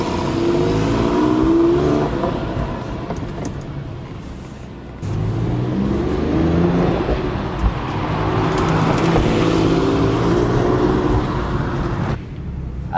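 A 2002 Porsche 996 sports car accelerates hard, its engine note rising through gears with a dip and surge midway, loud and close in the cabin, no talk over it.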